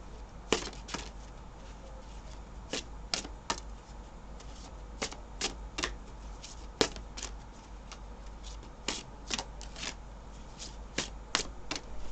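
A deck of tarot-style reading cards being shuffled during a card reading, with repeated sharp riffling bursts in an irregular rhythm over about twelve seconds, fairly close and alone against a low steady hum.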